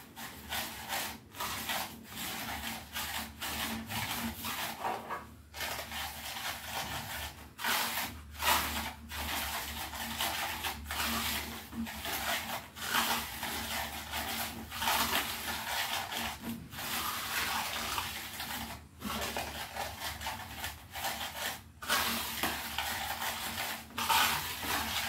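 Chicken breast pieces being stirred and dredged through breadcrumbs, a steady dry rubbing and scraping texture with frequent short pauses, close and moderately quiet, no talking.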